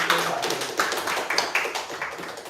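A vocal improv class claps for everyone, a small group's quick uneven hand claps rattling along steadily for a few seconds, nearby and moderately loud.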